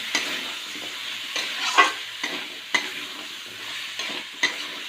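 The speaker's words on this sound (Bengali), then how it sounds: "এর মধ্যে আমি এখন দিয়ে দেবো উলকপি কাটা উলকপি আর আলু এটা দিয়ে দিলাম" Cauliflower and potatoes fry in a pan, heard as a close, loud sizzle broken by repeated scraping stirs at an irregular rhythm, with no voices.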